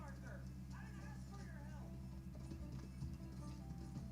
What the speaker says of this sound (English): This is not the horse to be chasing Jamie in.